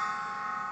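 An 8 by 20 cm splash cymbal rings out with a soft, sustained bell-like shimmer that holds steady at moderate level, with no fresh strike audible, only the lingering tone.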